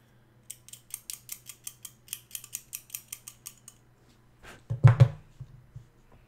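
Clippers snip plastic miniature parts for a custom Chaos Space Marine warband, giving about fifteen crisp, evenly paced cuts close up, followed by a louder clatter as pieces are handled.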